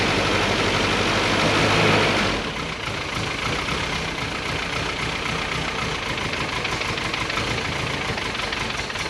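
An engine settles into idle as its choke is taken off: a louder, rougher run for about two seconds drops to a steady, knocking idle that continues close and alone.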